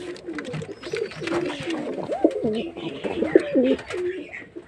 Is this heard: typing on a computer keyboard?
no